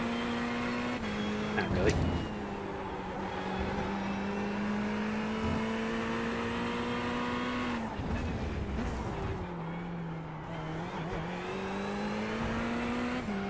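Racing cars in a racing video game droning at a steady engine pitch that shifts as gears change, with a couple of brief louder passes, while a person talks briefly.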